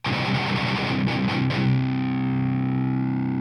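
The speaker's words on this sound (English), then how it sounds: "there's a little breakdown pattern that goes like this." Heavily distorted electric guitar chugs through the short breakdown pattern of a song, repeated strums, then one chord rings out and slowly fades.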